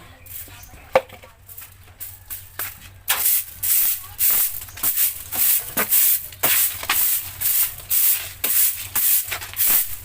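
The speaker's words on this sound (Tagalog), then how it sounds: "Ay magwawalis-walis ng konti." Broom sweeping outdoors around a rural home, rhythmic brisk scratchy strokes repeating steadily and fairly close, with a few knocks before the sweeping starts.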